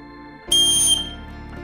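One loud, shrill blast from a cheap emergency whistle lasting about half a second, sharp and piercing, then fading into quiet background tone.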